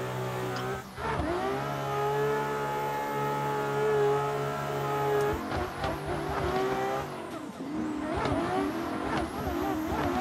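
The engine of an ESDA BMW M4 G82 race car in a driving game roars steadily at high revs, rising and falling through gear changes, with a brief tire squeal near the end.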